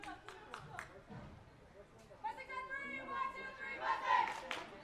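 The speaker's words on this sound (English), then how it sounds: "The Mustangs with a quick cheer, hyping themselves up, get back onto the field." A women's lacrosse team, the Mustangs, gives a quick shouted cheer together before returning to the field. Scattered claps come first, then a burst of massed voices rises, heard at a distance.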